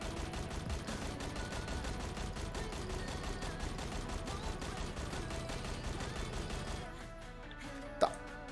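Sustained automatic fire from M4 and QBZ rifles in the Knives Out video game, a steady rapid stream of shots that stops abruptly and leaves one faint click.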